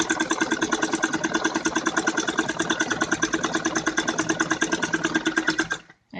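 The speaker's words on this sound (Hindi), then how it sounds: "उसी में ये दूसरी वाली साइड पे भी सिलाई लगा लूँगी।" A domestic sewing machine runs a seam on a child's romper, a fast, steady mechanical whirring with a tight repeating stitch rhythm for about six seconds before it stops abruptly.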